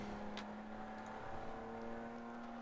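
A race car on track at Gingerman Raceway during an endurance race: a faint, distant engine whine that holds steady throughout, with no one talking over it.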